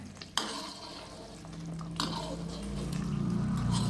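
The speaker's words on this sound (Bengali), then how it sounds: "চারিদিকে কষিয়ে নেব, যাতে না লেগে যায় কড়ায়।" Chicken korma gravy is stirred in a kadai over high heat, with a spatula scraping and knocking against the metal, a couple of sharper clanks, and a thickening sizzle building underneath; no talking.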